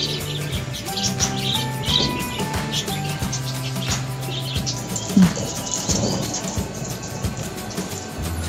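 Pet lovebirds chirp in short, scattered tweets near the microphone while a steady musical drone and household clatter run underneath, with one louder sharp call midway.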